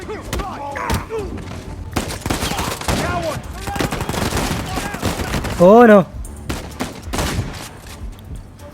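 Rapid bursts of gunfire from a third-person action shooter, Uncharted 4, crackle through a busy battle mix with thuds and impacts, while a player talks over it and briefly exclaims.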